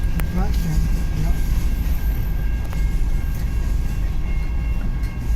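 Heavy CN M383 freight train passing in Richmond, Michigan: continuous deep rumbling of cars on the rails with occasional metallic clicks and brief whistle-like tones, while a person talks over it.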